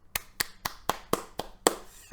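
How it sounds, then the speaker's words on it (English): Sparse individual claps, about eight sharp hits spread across a couple of seconds, from a small audience applauding a 34-year-old builder from New Zealand on a scale-model build competition show; fairly quiet, with no talk. "Can we please get a round of applause?"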